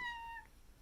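A cat gives a single clear, drawn-out meow that fades quickly, heard close against a quiet background.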